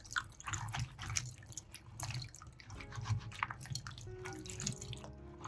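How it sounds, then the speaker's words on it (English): Water drips and splashes while okra is washed and scrubbed by hand, with irregular close patters and small wet rubbing sounds throughout, no speech. "When washing, be careful to scrub the hairy parts."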